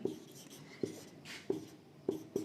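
Chalk or marker writes an example on a board, a few quiet, distinct tapping strokes spaced irregularly, with soft scratching between them in a quiet room.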